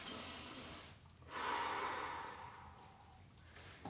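Slow, deep breaths drawn in and let out at close range during a relaxation reset exercise, with one long airy exhale standing out clearly and no talking.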